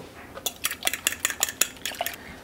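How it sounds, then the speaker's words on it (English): A fork whisks three eggs in a bowl, a rapid series of bright metallic clinks at an even rhythm, close and clear with no talk. "I have added 3 eggs that I am just going to whisk up"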